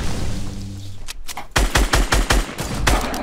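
A Fortnite Battle Royale minigun fires a rapid string of loud, close bursts in the second half of the clip, after a brief lull and some earlier mixed game noise.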